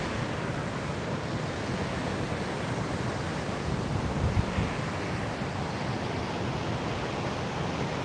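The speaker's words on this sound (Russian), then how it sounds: "Спрятаться, конечно, от ветра проблематично," Strong wind and stormy sea surf on a beach at Anapa sound as a dense, steady roar with heavy gusting wind noise on the microphone and no talking.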